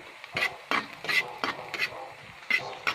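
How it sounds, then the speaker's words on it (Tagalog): Garlic sautés in a pan for a tuna pasta with broccoli, with a soft sizzle under repeated close scrapes and clacks of a utensil stirring in an uneven rhythm. "Gisa lang po natin ang bawang."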